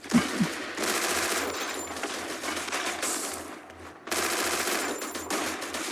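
Rapid automatic gunfire from the Free Fire mobile game rattles in dense bursts over game ambience, with a brief pause before a second stretch of shooting.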